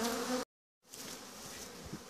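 Honeybees hum at an opened hive during a spring colony inspection, a faint steady buzzing that cuts out briefly and resumes with scattered soft thumps and clicks.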